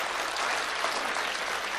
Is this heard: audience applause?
yes